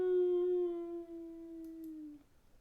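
A dog named Doggy lets out one long, steady howl that slowly falls in pitch, close and clear, before trailing off into near silence.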